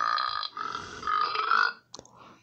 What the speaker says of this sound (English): And he burped a lot.